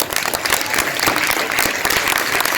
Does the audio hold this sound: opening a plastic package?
no